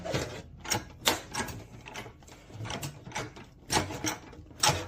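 A hand-operated sheet metal brake folds a ductwork transition piece for an air cleaner to furnace connection, producing irregular metallic clanks, creaks and rattles in quick bursts, close by and moderately loud.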